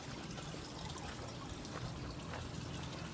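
Water runs steadily over sand in a gem-washing sluice at a campground, a continuous soft trickle with no breaks.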